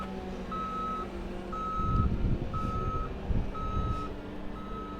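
Steady forklift reversing beeps repeat at even intervals, moderately loud, over a low engine rumble with a few clunks from machinery, at a car auction yard.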